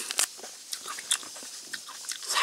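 Raw endive leaf eaten plain like lettuce: several crisp, crunchy bites and chewing sounds, close to the ear, with no talking.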